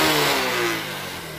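A used motorcycle, up for sale in Bangalore, revs its engine in one loud, close burst that eases off slightly toward the end, with no talking.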